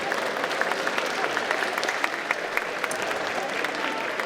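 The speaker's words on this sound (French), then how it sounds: "On peut les applaudir." Steady applause from a crowd at a gaming festival cosplay contest prize ceremony, dense overlapping claps held at an even level throughout.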